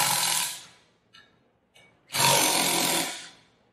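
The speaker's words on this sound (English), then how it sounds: "Then we take off these air chamber bolts." Air chamber bolts are removed from a metal 2-inch bolted Wilden pump, heard as two loud, close bursts of harsh whirring tool noise separated by a short pause with faint clicks.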